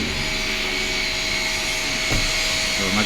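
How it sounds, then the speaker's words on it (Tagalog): The cooling fan of an IGBT inverter welding machine runs in a steady, loud, close whirring drone with a faint tonal hum, unbroken throughout. "So nag-on na yung fan."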